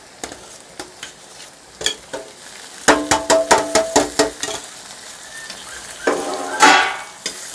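Browning onions in a pan for fish curry are stirred with a spoon clinking rhythmically against the metal, a dozen quick scrapes and taps, then tomatoes drop in and the frying surges into a brief louder sizzle.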